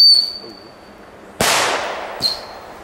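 A Belgian firework set off electrically whistles with a short high tone, then bursts in a sharp loud bang followed by a brief second whistle, heard close and outdoors with voices nearby.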